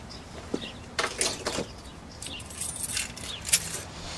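Car keys jangle and clink in several short metallic bursts during a police search of a vehicle, with no talk, just scattered bright rattles close by.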